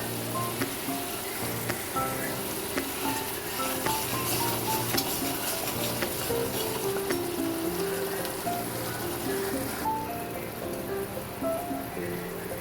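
Fried potatoes get stirred into a poppy seed and mustard spice paste in a pan for a vegetarian okra-potato posto dish, with a soft continuous sizzle and gentle scraping throughout and no talking.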